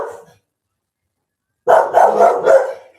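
A dog named Chico barks at night, a short burst at the start and then a run of four loud, close barks in quick succession after a pause of near silence.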